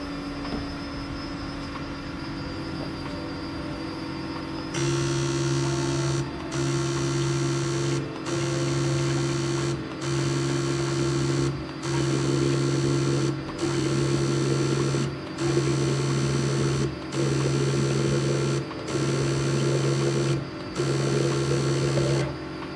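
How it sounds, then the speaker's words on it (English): Fuel injectors on a modified V8 ski engine click in repeated timed bursts, driven by an injector activator tool, each burst a loud buzzing pulse separated by short gaps over a steady background hum. "I've got my fuel injector activator tool set up. All right, let's go ahead and test this."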